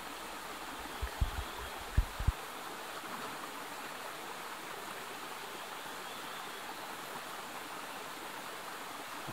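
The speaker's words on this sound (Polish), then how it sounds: "Odkryłem właśnie, że ten strumień jest magiczny." A flowing jungle stream gives a steady, even rush of water all the way through, with a few low thumps near the start.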